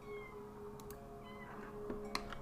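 A cat in The Sims 4 meows in drawn-out, tonal calls over a quiet game soundscape with faint background music, fairly soft overall with a couple of brief clicks.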